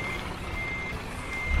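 Steady electronic reversing beeps from a truck in the driving game Let's Drive, a continuous high tone running through the short clip alone with no talk.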